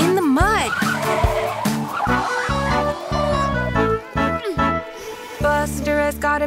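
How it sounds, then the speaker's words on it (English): Squealing brakes from a cartoon bus, with sharp pitched screeches and bouncy musical hits over steady background music, punctuated by short thumps. "Screech go the brakes, followed by a thud"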